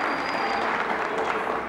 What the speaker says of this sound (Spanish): un aplauso para Lalo